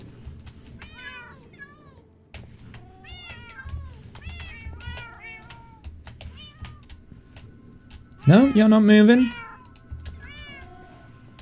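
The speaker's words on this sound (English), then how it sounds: "Gonna bring down one of the cats." Cats in Minecraft meow repeatedly, several short nearby meows spread through the clip and one loud drawn-out yowl near the end, while someone talks at times between them.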